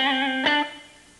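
An electric guitar in another pickup selector position sounds a sustained distorted note, then a fresh strum that fades away quickly. The tone is a little darker and thinner. No one speaks.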